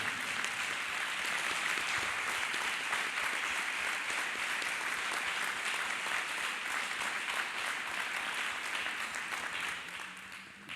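A church congregation claps for Jesus Christ during a worship service, with dense, steady applause filling the room for about ten seconds before easing slightly at the end.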